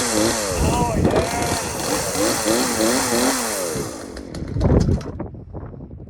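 A Stihl chainsaw runs close and loud, its engine rising and falling through several revs before cutting out near the end, with talk mixed in over the noise.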